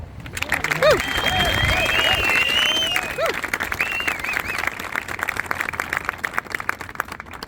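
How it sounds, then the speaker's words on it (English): A crowd applauds honorees at a road dedication ceremony for Cesar Chavez Road in Adrian, Michigan, with steady clapping and cheers that swell early then continue at an even level, a few voices rising over it. "the round of applause and recognition and pride that they've brought to this community"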